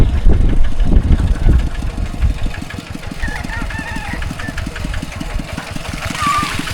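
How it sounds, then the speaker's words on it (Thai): A vendors' truck engine idles in a Phu Thai village at Ban Na Mo, Xaibouathong, with a steady, knocking rhythm close by. A rooster crows faintly in the background partway through. "อันนี้รถพ่อค้าแม่ค้าหาส่งเครื่อง"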